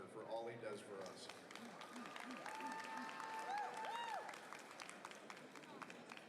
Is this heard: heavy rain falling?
no